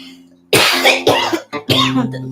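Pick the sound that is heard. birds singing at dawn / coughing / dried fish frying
coughing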